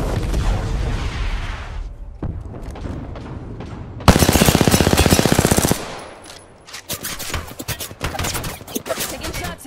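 Loud, close automatic gunfire in the battle royale game Apex Legends: rapid bursts and a sustained full-auto stream, with sharp single shots and impacts trailing off near the end.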